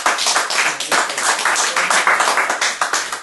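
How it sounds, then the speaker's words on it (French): A court gives the king a round of close, lively applause: many hands clap rapidly and evenly, alone with no talk, for a few seconds. "La cour est très honorée d'applaudir le roi."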